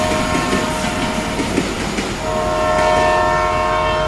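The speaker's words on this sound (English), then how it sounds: "There is a train that sometimes comes through." A train passes close by, its loud rumble and clatter joined by sustained horn tones that swell toward the end, with no talking.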